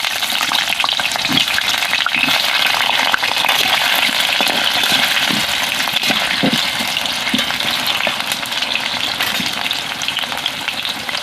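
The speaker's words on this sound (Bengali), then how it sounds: "আলুটাকে লাল লাল করে ভেজে নেব।" Potato pieces fry in hot mustard oil in a wok, giving a loud, continuous sizzle with occasional crackles and stirring scrapes close by. No one speaks.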